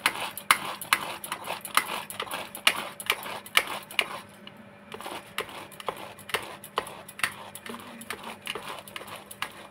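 Ripe pineapple is grated by hand for a chutney, producing steady rasping scrapes in a quick, even rhythm of repeated strokes that are close and clear, with only a short pause partway through.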